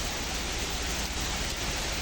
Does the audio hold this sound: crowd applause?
no